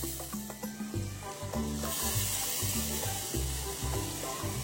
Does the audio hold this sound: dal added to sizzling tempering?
yes